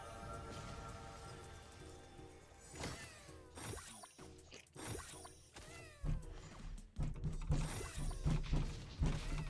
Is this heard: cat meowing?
yes